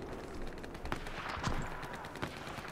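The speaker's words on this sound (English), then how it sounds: "I was getting shot from like 6 different angles" Gunfire in the video game Battlefield 4: dense, continuous shooting from several directions, with louder bursts cutting through a steady wash of battle noise.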